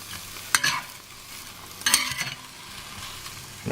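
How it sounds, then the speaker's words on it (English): A spoon scrapes twice through onion and apple frying in a pan, each stir a short rasping burst over a steady low sizzle, close and fairly quiet. "we'll just give that a bit of a stir"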